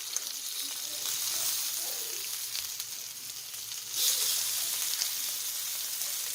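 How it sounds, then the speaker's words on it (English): Salmon steaks sizzle and fry in a pan with a loud, steady hiss, which swells briefly as the fish is flipped. "I'm going to go ahead and flip our salmon over"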